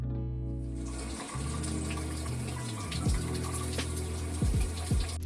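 Shower water runs steadily during hair washing, a close, continuous spray with a few bumps and squeaks of movement, and no voices.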